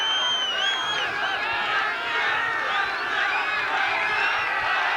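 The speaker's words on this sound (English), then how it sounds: "As you can hear the roar of the crowd," A large stadium crowd roars steadily before kickoff at a 1980 football match between Adelaide Croatia and Para Hills, a dense, continuous wash of voices and cheering that stays loud throughout with no single speaker standing out.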